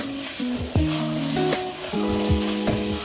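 Ginger curry sautéing with salt in a pan, with a sizzle and a few clunks of stirring, set against sustained steady tones throughout.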